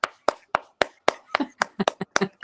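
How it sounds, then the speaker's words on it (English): A man claps for himself, a run of about a dozen sharp, separate hand claps at an uneven rhythm, close and fairly loud, with bits of voice mixed between them. "let me clap it up for myself"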